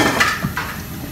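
A metal lid set onto a pot of simmering brinjal and coconut milk curry makes a quick couple of clanks and a light rattle, close and fairly loud, with no talking.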